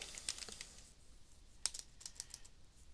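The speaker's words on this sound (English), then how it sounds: "I'm just typing" Sparse keystrokes clatter on a computer keyboard during C# programming, a few soft irregular clicks with short pauses, faint and close with no voices.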